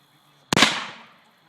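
One 12 gauge shotgun shot of 00 buckshot fired at a water heater: a single sharp, loud blast with a quick decaying tail, alone in otherwise quiet surroundings.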